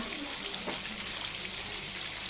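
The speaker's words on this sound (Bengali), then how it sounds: "তাই রুই মাছ ভেজে নিচ্ছি।" Rohu fish pieces fry in a pan with a steady, dense hiss of sizzling oil, close and continuous without pauses.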